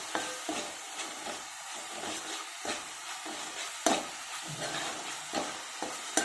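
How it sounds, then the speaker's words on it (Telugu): Freshly made ginger garlic paste frying in a pan for Andhra-style fish pulusu, a soft continuous sizzle broken by repeated scraping stirs of a spoon at a moderate distance, with no talking. "ఫ్రెష్గా చేసుకున్న అల్లం వెల్లుల్లి పేస్ట్ ఇది కూడా బాగా ఫ్రై అవ్వాలి"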